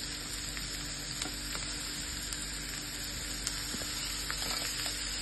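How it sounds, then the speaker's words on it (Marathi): Chopped onion frying in a pan for chicken gravy gives a soft, continuous sizzle and crackle with scattered small pops, steady and fairly quiet throughout. "कांदा आपल्याला लालसर भाजायचा आहे."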